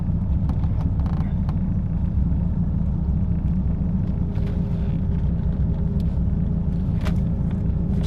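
Low, steady engine rumble from a Dodge Viper with a manual transmission as it backs up, a constant drone filling the whole stretch with faint intermittent clicks and movement noise over it.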